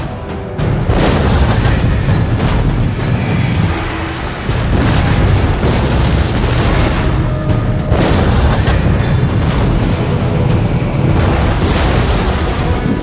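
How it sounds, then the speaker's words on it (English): Cannon fire from Hussite artillery booms through a cinematic medieval battle at Kutná Hora in 1421, a dense, continuous roar of heavy low blasts with brief lulls and no voices. "The Hussite artillery fired upon the riders, breaking their lines and overall disrupting their order."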